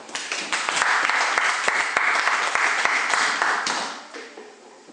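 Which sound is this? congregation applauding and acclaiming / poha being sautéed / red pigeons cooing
congregation applauding and acclaiming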